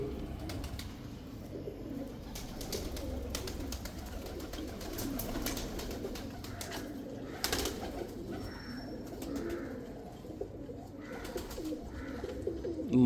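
Pigeons coo repeatedly at close range, soft throaty calls layered over a busy background of rustling and occasional wing or cage noise, with no voices.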